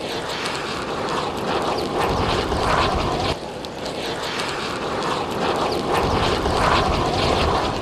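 Gas jets hiss and roar from vegetation burning under Kilauea lava, a loud, continuous broadband rush that holds steady for several seconds with no voices.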